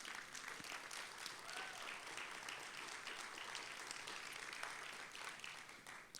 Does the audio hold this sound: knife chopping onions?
no